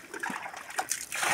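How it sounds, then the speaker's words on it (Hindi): Soil and stones being washed out of something in water by hand in a Himalayan hillside home, an irregular close run of sloshing, trickling and splashing. "तीन तीन चार चार बार पानी में धोना पड़ रहा है"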